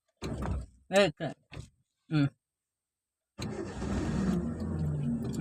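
A car engine starts during a first driving lesson: a few short spoken phrases, a pause of silence, then the engine catches and settles into a steady, close idle rumble.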